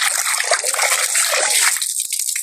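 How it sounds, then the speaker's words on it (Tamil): Country chicken meat washed in water in a village kitchen, with loud continuous splashing and sloshing that fades into scattered drips and trickles. "ஒரு தண்ணியில தானே கழுவுவோம்."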